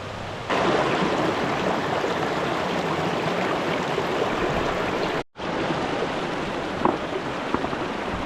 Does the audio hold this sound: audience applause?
no